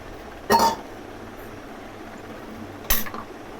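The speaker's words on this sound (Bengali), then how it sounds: "ঘি দিয়ে ভালো করে নাড়াচাড়া করে নামিয়ে অন্য পাত্রে ঢেলে নেব" A metal spoon clanks twice against a pot while vegetable and fried moong dal curry with ghee is stirred, two short bright scrapes about two seconds apart over a quiet background.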